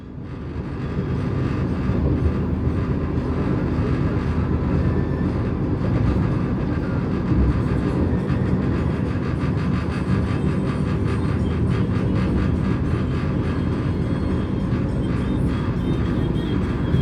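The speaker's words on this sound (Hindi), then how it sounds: "हमारी ट्रेन पहले रुकती है और फिर अचानक से जो स्पीड बढ़ाना शुरू करती है। तो आपको थोड़ा सा एक्सीलरेशन दिखाते हैं।" Interior of a Vande Bharat express on the Prayagraj–Gorakhpur route, picking up speed after a stop: a steady, loud broadband rumble of rolling wheels and motors with faint rhythmic clatter, continuous throughout, with no talk.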